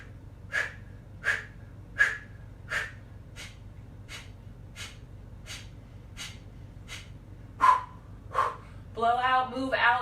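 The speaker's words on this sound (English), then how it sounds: "This is the skull polishing breath variation of Kapalabhati Pranayama to help cleanse our thoughts and help the mind settle." Kapalabhati skull-polishing breath during a yoga practice: a steady series of about ten sharp, forceful nasal exhales, evenly spaced and close, ending in a longer rougher breath with no talking.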